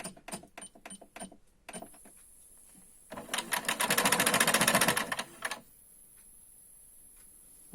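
A sewing machine stitches a pouch with a straight stitch, starting with a few separate clicks and short bursts, then running in one fast, steady whirring rattle for about two seconds before stopping, followed by faint scattered ticks.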